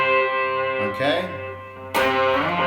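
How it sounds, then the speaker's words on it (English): Electric guitar with a delay effect, its repeats bouncing in the background behind ringing worship-style chords, with a fresh strum near the end; short and moderately loud, no voice. "So there's the delay bouncing off in the background."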